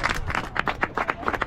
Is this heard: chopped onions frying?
no